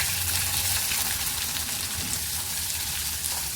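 Onion sizzling in hot oil with mustard seeds and cumin for a Kokan-style pithla, a dense, steady crackling hiss that runs close and fairly loud throughout, with no voices.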